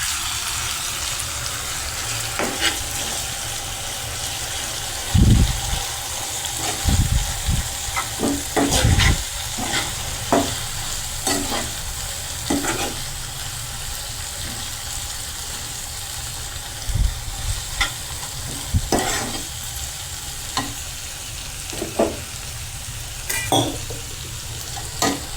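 Chili and okra fry in a pan for a dry Gujarati bhindi dish, with a continuous sizzle and occasional scraping, clunking stirs of a spoon throughout, close and fairly loud.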